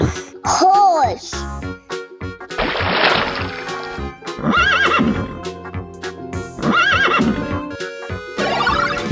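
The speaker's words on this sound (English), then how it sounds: "horse, horse," A horse neighs and whinnies repeatedly in loud, high, quavering calls, each separated by short gaps, under and between a voice naming animals for children.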